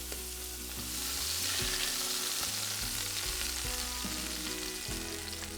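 A sous vide sirloin steak sears on a hot surface, giving a steady, close crackling sizzle of fat and juices that holds evenly throughout, with music playing underneath and no talking.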